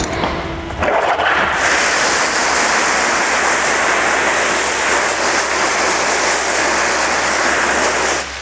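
Water sprays steadily onto Weathertech floor liners, a loud continuous rushing hiss that starts abruptly after a short lead-in and runs unbroken to the end, with no talking.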